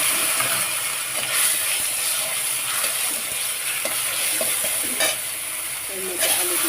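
Potatoes fry in a pan with turmeric, salt and ginger, giving a steady sizzle broken by repeated scraping and stirring clatter as a utensil moves the pieces around, close and clear with no talk.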